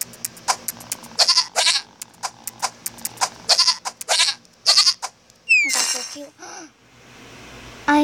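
A sheep character in the mobile game Tap Tap Dash bleats amid a run of short, bright game taps and clicks, followed by a longer wavering bleat-like call near the end.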